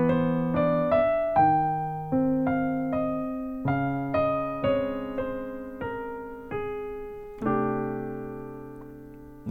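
The coda of a piano piece is played as a short phrase of separate struck chords and notes, each decaying, moving steadily downward and ending on a held final chord, with no talking.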